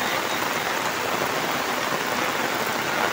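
Heavy monsoon rain in coastal Konkan pours down steadily, a dense, loud, unbroken roar of drops hitting surfaces close by, with no voices.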